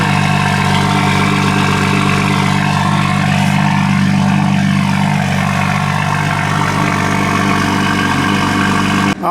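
A Toyota Supra MK5 fitted with a Boost Logic titanium exhaust idles loudly and close by with a deep, steady rumble, cutting off abruptly at the end.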